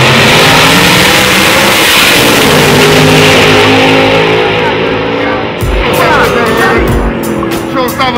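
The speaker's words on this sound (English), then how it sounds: "Camaro versus Camaro." Two Chevrolet Camaros launch in a grudge drag race at night, their engines roaring loud and close at full throttle before the sound drops and shifts as they pull away down the strip.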